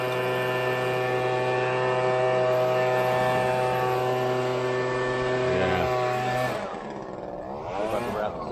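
Loud steady engine drone of a blower clearing debris after a house wash, a sustained hum with strong harmonics that shifts and dips near the end as the tool is moved, close and without talk.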